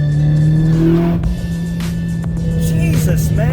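Built Mitsubishi Lancer Evolution X MR making about 500 wheel horsepower, accelerating hard in third gear as the turbo wastegate opens; a loud, close, sustained engine roar with a brief dip in tone about a second in.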